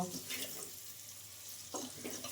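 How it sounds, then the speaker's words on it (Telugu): Onions fry quietly in a pan for an egg curry, a soft low sizzle with a couple of brief stirring bursts near the start and end, fairly faint and close. "ఉల్లిగడ్డలు అయితే వేగాయి."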